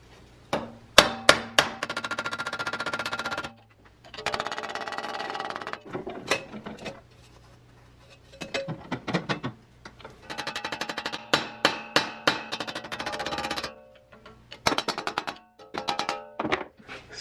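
A steel chisel is hammered to shear sheet metal held in a vise, making clusters of sharp, ringing metallic strikes. The bursts of blows come in rapid runs separated by short pauses, close and loud.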